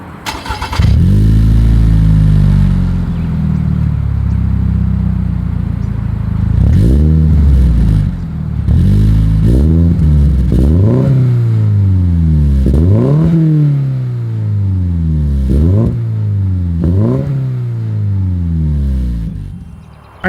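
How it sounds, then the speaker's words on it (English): A 2024 Toyota GR86 sports car engine idles loudly, then revs hard several times in quick succession, each rev rising and falling with a throaty exhaust roar. "As always, here is that exhaust clip."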